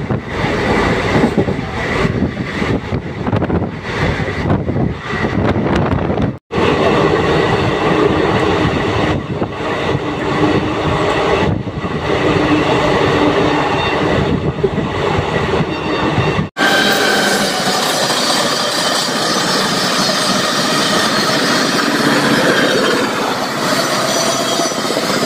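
Maa Tara Express passenger train running from Naihati toward Bolpur, a steady loud rumble of wheels and carriage throughout, with brief dropouts and a brighter, hissier tone in the final stretch.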